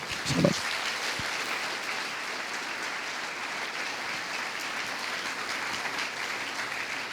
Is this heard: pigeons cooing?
no